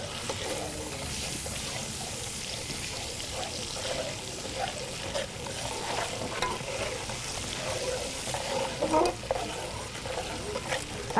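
Ginger-garlic paste frying in oil for chicken nihari, a continuous close sizzle with spoon scrapes and stirring knocks, alone without talk.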